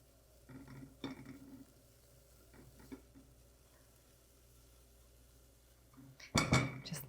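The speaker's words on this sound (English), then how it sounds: "we're going to add our grated zucchini. We're gonna cook that just long enough to get a tiny bit more moisture out of it." Grated zucchini cooks in a pan with a soft, quiet sizzle. It is punctuated by scattered utensil clinks and stirring scrapes, with a louder burst of clattering stirring near the end.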